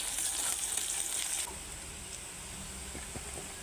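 Onions, potatoes and chui fry in a pan for a katla fish curry, giving a steady sizzle that is louder and hissier for the first second and a half, then settles to a softer frying hiss with light clinks.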